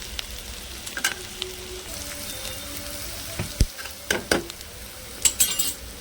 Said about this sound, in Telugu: ఈ దొండకాయ ఉడికేంత వరకు కూడా మనం సిమ్లో పెట్టేసి మధ్య మధ్యలో కలిదిప్పుకుంటా వేయించుకుందాం